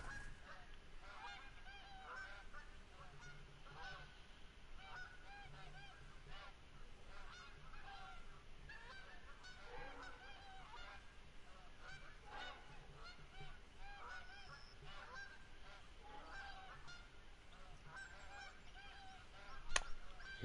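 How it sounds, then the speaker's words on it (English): Geese honk repeatedly in the background of the Revontuli map of a hunting video game, faint overlapping calls over a steady low ambience. "sure hear a lot of birds in the background on Revontuli"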